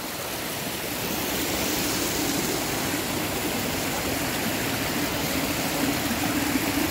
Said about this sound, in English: We got our own little waterfall now.